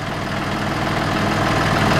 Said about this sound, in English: That's a pretty damn nice old tractor.